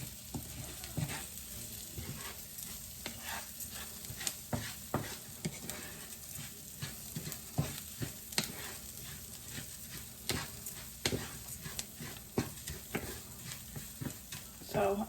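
Parmesan and mushroom risotto rice toasting in a pan, with a soft continuous sizzle and repeated sharp scrapes and clicks of a spoon stirring against the pan throughout.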